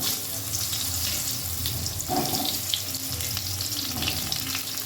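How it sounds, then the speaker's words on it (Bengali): Slit pointed gourd coated in salt and turmeric fries in a little mustard oil in a hot wok, giving a constant close, hissing sizzle with a brief stir in the middle and no voices. "নুন হলুদ মাখিয়ে পটলগুলো একটু ভালো করে ভেজে নেব"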